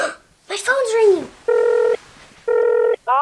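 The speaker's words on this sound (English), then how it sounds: "My phone's ringing." A mobile phone rings with two short bursts of a steady electronic tone, each about half a second, after someone talks excitedly; a third ring begins at the end.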